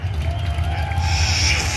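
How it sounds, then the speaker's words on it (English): A crowd at a drag racing event, the Danchuk Tri Five Nationals, cheers in a steady, noisy wash of voices and whoops. A low rumble runs underneath. "the crowd showing their appreciation"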